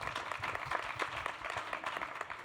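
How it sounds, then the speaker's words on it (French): An audience at a business investment presentation claps in sustained, fairly faint applause with dense overlapping hand claps throughout. "tout le monde applaudit"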